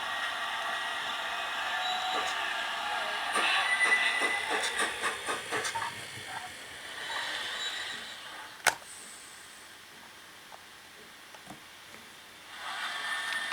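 A Bachmann pannier tank model locomotive fitted with a Zimo sound decoder runs on analog DC, giving a steady steam-style hiss and rhythmic chuffs that fade and return, with a sharp click partway through.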